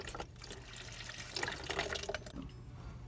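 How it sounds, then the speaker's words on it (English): Water drains from opened copper shower pipes into a bucket, a faint, steady trickling and splashing with brief louder spells, with no one speaking. "We'll drain all the water out of the system and catch it in a bucket."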